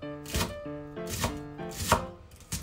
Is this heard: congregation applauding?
no